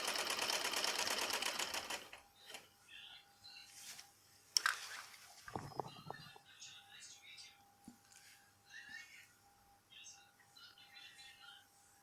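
A sewing machine runs in a loud burst stitching pleats on a salwar, then stops, followed by quiet handling noises and soft bits of a voice.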